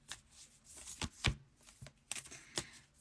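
Tarot cards being shuffled before a card reading, close and soft, in several quick riffling bursts separated by short pauses, with no voices.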